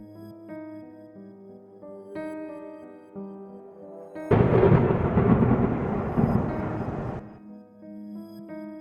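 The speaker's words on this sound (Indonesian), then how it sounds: "Hujan deras disertai guntur menggelegar." A crash of thunder with a burst of heavy rain breaks in for about three seconds over soft background music, used as a stormy-night sound effect in a spoken horror story; no one speaks.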